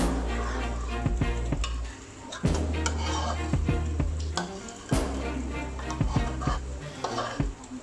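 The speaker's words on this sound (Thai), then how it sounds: "นำไข่และนำปูลงไปผัดต่อ ก็ผัดรวนไปเรื่อยๆนะครับ" Crab and egg stir-fried in a thick curry powder sauce in a pan, with loud, close, repeated scraping and clanking of a spatula against the metal over a low sizzle.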